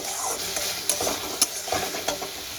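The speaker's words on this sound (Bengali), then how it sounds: "পেঁয়াজটা আমার সুন্দরভাবে কষে গেছে" Onions frying in a pan, a steady sizzle with several distinct scraping knocks as they are stirred, close and fairly loud, with no talking.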